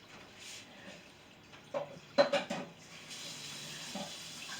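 Water runs from a kitchen tap during cooking, a few short knocks and splashes first, then a steady hiss of flowing water through the last second and a half, fairly quiet with no talking.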